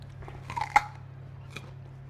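Cold, crunchy fruit is bitten and chewed indoors in Quebec, with one sharp crisp crack standing out from softer chewing noises over a faint steady hum.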